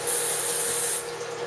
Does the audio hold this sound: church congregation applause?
no